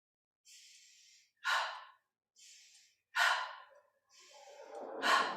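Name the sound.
passive nose inhale and sharp exhale, yoga breathing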